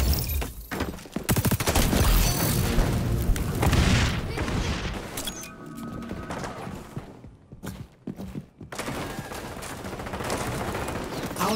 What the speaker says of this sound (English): Reloading. Throwing grenade.